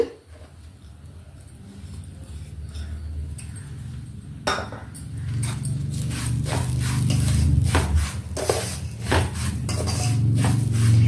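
Semolina and grated coconut being stirred and roasted together in a pan for rava laddu: steady scraping and clinking of a spoon against metal, repeated strokes growing busier and louder over a low frying rustle, no talk.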